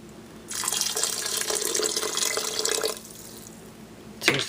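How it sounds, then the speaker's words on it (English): Tap water runs from a faucet into a pot of thick Italian sausage chili, a steady splashing pour for about two and a half seconds that then stops, followed by a brief clink near the end. "let's add some water to get it the way I like it"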